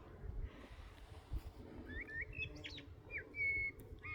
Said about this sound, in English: can you hear the blackbird?